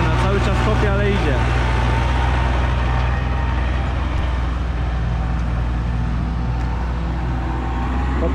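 Zetor 5245 tractor pulling a potato digger across a field during the potato harvest, its engine a steady loud low drone with machinery rumble, while someone talks over it.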